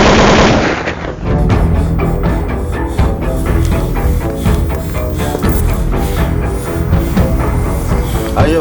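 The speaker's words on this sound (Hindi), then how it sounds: "कौन चला रहा गोली?" Heavy gunfire rattles through a scene in a Hindi-dubbed South Indian action film, with rapid, loud automatic bursts running almost without pause after an opening moment of dialogue.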